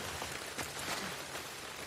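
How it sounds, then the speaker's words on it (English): Steady rain falls in The Last of Us Part II, a dense, even hiss of drops on surfaces with no talk over it, soft and continuous. "And I love the rain."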